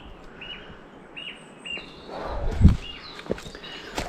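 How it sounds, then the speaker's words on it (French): Birds chirp and sing in repeated short calls on a Pyrenees mountain trail at around 2000 metres, mid-distance and fairly clear, with a few footstep-like thumps and rustles near the middle. "Je ne m'attendais pas à autant de sons d'oiseaux."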